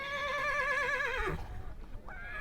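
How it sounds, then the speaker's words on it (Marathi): A horse whinnies at a sunset viewpoint on Table Land in Panchgani, a single wavering neigh that rises and then trails off, with faint outdoor ambience after it and no talk. "हे घोडे बऱ्याच वेळा ओर ओरडतं आहे"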